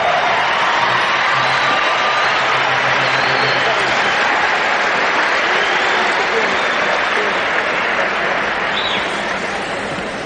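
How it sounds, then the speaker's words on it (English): A large arena crowd at an NBA All-Star Game in Richfield, Ohio applauds the Western Conference All-Stars, a roaring sustained wash of clapping mixed with cheers and whoops, loud and continuous, slowly easing off toward the end. "Let's have a round of applause for the Western Conference All-Star."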